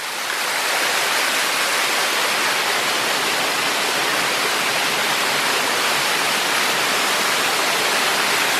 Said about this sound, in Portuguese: isso aqui é cachoeira do Calabouço